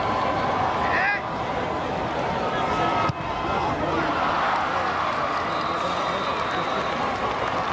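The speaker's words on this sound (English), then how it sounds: "The holder trying to quiet the crowd." Broad, steady roar of a college football stadium crowd at a Clark Atlanta vs. Morehouse game during a point-after attempt, loud and continuous with brief swells and faint whistles, under indistinct talk.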